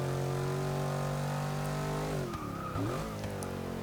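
A 2014 Jeep Grand Cherokee SRT in Forza 6 holds a steady engine drone, then its tyres squeal in a wavering, bending screech as the front end pushes wide through a corner, loud and close with no talking.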